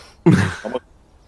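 A single short cough, close and fairly loud, with a quick second catch at the end, then quiet.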